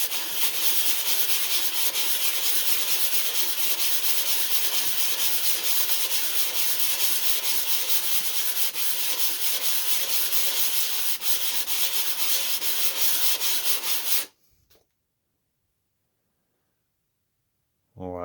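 Sandpaper rubs steadily and closely over a cylinder head during an engine rebuild, making a continuous harsh scratching that runs without a break and then stops abruptly, leaving near silence.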